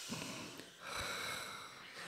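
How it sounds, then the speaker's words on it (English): A man takes heavy, rasping breaths close to a microphone, faint wheezy inhales and exhales with a soft snort, with no speech over them. "It's heavy breathing."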